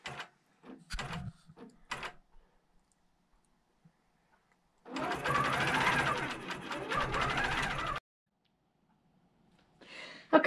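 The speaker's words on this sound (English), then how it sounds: "the left side has finished stitching" A quilting sewing machine stitches a chunked border in one steady mechanical run of about three seconds, loud and close, set between brief clicks and handling noises.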